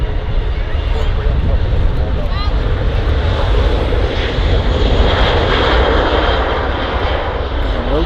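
An EasyJet airliner takes off from runway 05L at Manchester Airport, its jet engines roaring loud and steady throughout with a broad rushing whine and some wind buffeting, while a person talks over it.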